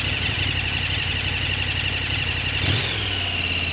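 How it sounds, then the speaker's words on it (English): A KTM 1290 Super Adventure S motorcycle engine with its stock exhaust idles in a steady, buzzy drone, with a short blip near the end before settling back to idle. "It's the engine sound that is really terrible with the stock exhaust."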